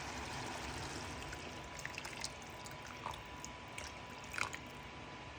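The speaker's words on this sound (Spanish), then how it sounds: "ahora lo que vamos a echar es el agua" Water poured into a pan of simmering Spanish meatball sauce after the wine has reduced, a soft continuous splashing trickle at low level over a steady background hiss, with a few brief brighter splashes near the end.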